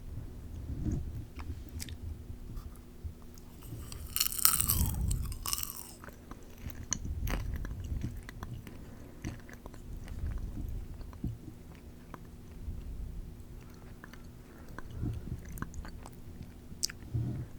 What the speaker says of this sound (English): I also don't normally chew with my mouth open, so doing that first crunch with my mouth open is really weird.